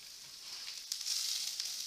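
Carrots, cauliflower and onions stir frying in a pan, a soft, fairly quiet bright sizzle with a few sharper crackles as more vegetables drop in.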